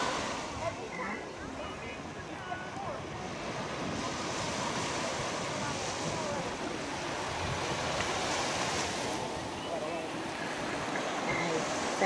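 Ocean surf at Indian Rocks Beach, Florida: a steady broadband wash of waves with wind buffeting the microphone, continuous and fairly close, with swells rising and easing throughout.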